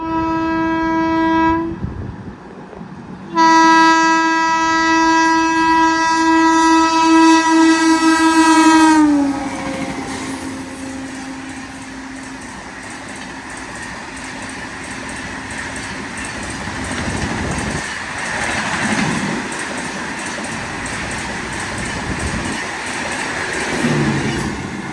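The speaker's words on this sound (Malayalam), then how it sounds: "ഇപ്പോൾ പോയത് റാണി കമലാപതി ഉണ്ടല്ലോ, ഭോപ്പാൽ നിസാമുദ്ദീൻ പോകുന്ന ഷാനി ഭോപ്പാൽ എക്സ്പ്രസ്" Rani Kamalapati–Nizamuddin Shan-e-Bhopal Express sounds a long, loud two-tone horn blast close by, then rumbles past with steady wheel and carriage noise and rhythmic clacking that gradually fades.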